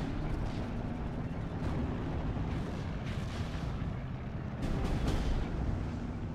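Booming tank gunfire and heavy impacts in a World War II tank combat video game, a dense rumbling battle din with several louder blasts, the strongest near the end.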